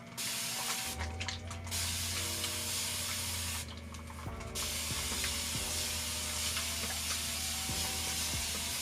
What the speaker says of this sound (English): With my continuous spray bottle